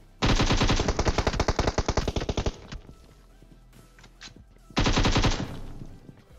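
Automatic gunfire in the mobile battle-royale game PUBG Mobile: two loud rapid bursts of shots, one lasting about two seconds and a second starting near the end, separated by quieter scattered game sounds.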